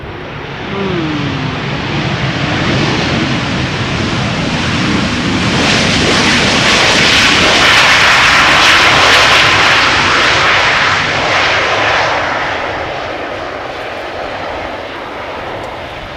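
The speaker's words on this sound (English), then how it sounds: "How is the 737 louder? It is Ryanair. They always go full reversers." A Ryanair Boeing 737 lands at Amsterdam Schiphol with full thrust reversers, a broad roaring engine rumble that swells to a loud peak and slowly fades, heard alone outdoors with no talk.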